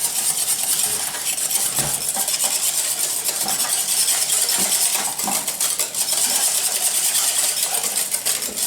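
A spoon or whisk stirs chocolate pear tart filling in a bowl, giving a steady, close scraping and clinking against the bowl with a continuous, fairly loud texture and no talk.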